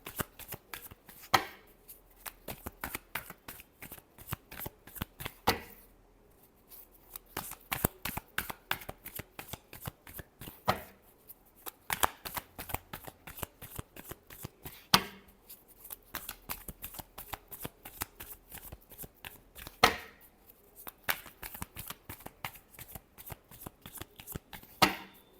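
Tarot cards being shuffled alone, close and crisp, in repeated quick riffling bursts with brief pauses between them.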